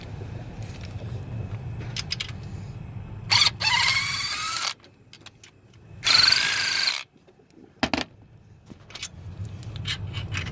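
An impact wrench with swivel extensions removes the two 15mm alternator bolts on a 2012-2018 GMC Sierra or Chevy Silverado 5.3 V8, in two loud, close rattling bursts of about a second each with quiet gaps between.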